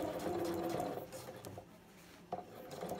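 A sewing machine runs a basting stitch along an invisible zipper, a soft close whir that eases off midway and then starts again with a small clunk.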